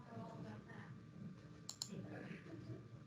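Two quick mouse clicks land close together midway through, sharp and brief, while someone talks in a low voice around them.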